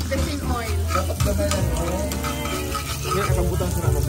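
Chopped onion frying in plenty of hot oil in a home kitchen, a loud, dense, continuous sizzle with stirring scrapes throughout, close up, and people talking over it.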